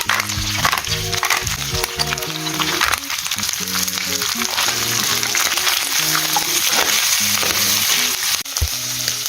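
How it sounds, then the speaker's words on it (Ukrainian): Chicken liver sizzles and spits steadily in a hot pan, with occasional scraping and clinks of a utensil stirring the pieces. "Підсмажую всю печінку і викладаю на сковорідку."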